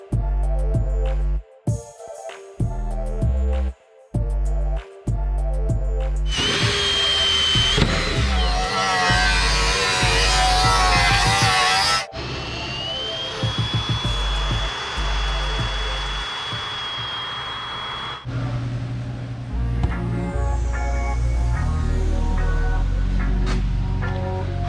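A power tool whines and grinds as it cuts steel plate along a traced template for a car being converted to AWD, loud and close, with short stop-start bursts first and then long sustained cutting.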